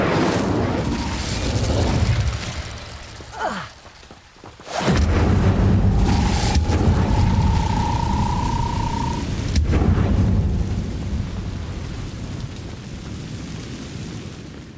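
The Incendio fire spell is cast in a Harry Potter video game, giving a loud, sustained roaring burst of flame. The blast dips briefly, then surges back with a whining tone and a sharp crack before fading slowly.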